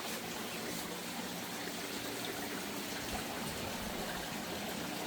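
Water runs over a small backyard creek waterfall, a steady broadband rushing trickle that stays even and fairly faint throughout, with no voices.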